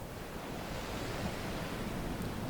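Ocean waves wash onto the shore at sunset in a steady, soft broadband rush with no distinct breaks, heard from a distance without voices.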